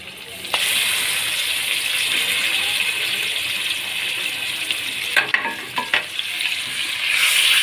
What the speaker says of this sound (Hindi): अच्छे तरीके से आपने प्याज के अंदर इसको फ्राई करना है